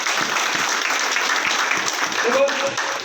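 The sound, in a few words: audience applause at a presentation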